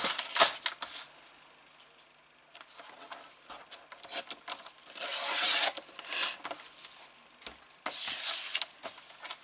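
Paper being cut by hand for a Harry Potter themed scrapbook album, a close, dry rasping scrape in several bursts of varying length with brief pauses between strokes.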